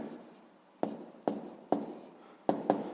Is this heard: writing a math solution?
yes